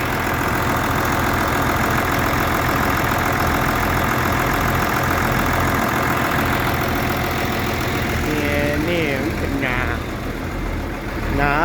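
A tractor engine idles with a loud, steady chugging drone close by, and a voice speaks briefly near the end.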